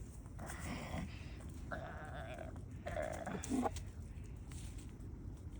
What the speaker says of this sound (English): Nothing like sitting with your goats.